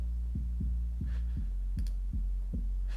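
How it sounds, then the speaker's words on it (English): A layered 808 bass with enhanced harmonics thumps in a steady, evenly spaced pattern, about eight deep booming hits, each with a short pitch drop. A faint higher tone flickers above the bass. "it just kind of enhances the harmonics of the 808 and brings it out in the mix a little bit more"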